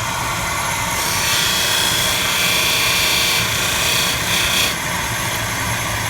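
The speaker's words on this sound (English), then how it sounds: "We go over to the grinder" A grinder in a guitar factory runs with a steady loud whir, a higher grinding tone rising in the middle as a workpiece meets the wheel, then easing off.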